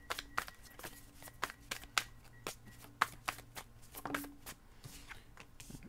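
A deck of tarot cards being shuffled by hand, a quiet close flurry of rapid riffling flicks and snaps with a few sharper card slaps.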